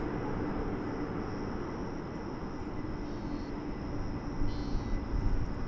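An airliner taxiing slowly at DFW Airport, heard as a steady, broad jet rumble and hiss from a moderate distance with a faint high engine whine overhead, continuing unbroken.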